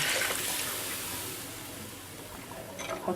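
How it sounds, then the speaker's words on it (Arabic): Water pours steadily into a cooking pot of peas on a home stove, a continuous close splashing rush that swells slightly toward the end. "انا هحط لها الميه"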